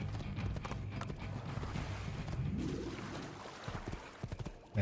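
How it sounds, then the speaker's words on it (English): Horse hooves clip-clopping in Assassin's Creed II, a steady close rhythm of hoof beats over a dense ambient game backdrop, with a brief louder hit at the end. "no, I can't take this horse, it belongs to somebody"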